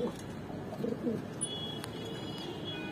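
Pigeon cooing from a pair of Kaldom pigeons, a hen and a cock, in a loft: soft low coos rising briefly mid-clip over a steady background hiss, fairly faint and unobtrusive.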